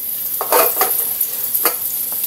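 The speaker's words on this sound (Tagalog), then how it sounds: "Dito na tayo magigisa." Sautéing in a frying pan with scraps of smoked fish, a loud steady sizzle with a few scraping stirs of a utensil against the pan, close up.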